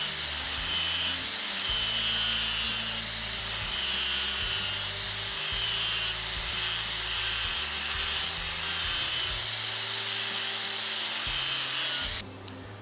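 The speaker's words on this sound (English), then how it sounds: "what we want to do is grind that sharp corner and create a flat spot that is also 1/4 inch wide" An angle grinder works a sharp welded quarter-inch steel corner down to a flat, its loud, steady high whine rising and dipping slightly as the disc bears on the metal before cutting off at the end.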